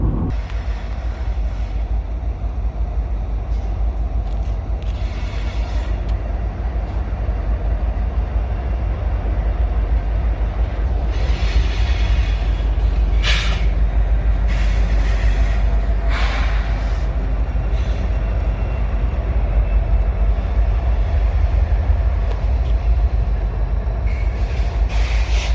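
Freight train with a Conrail heritage locomotive passing a crossing in New Galilee, Pennsylvania, a steady loud rumble of rolling rail cars lasting throughout, with brief higher squeal bursts.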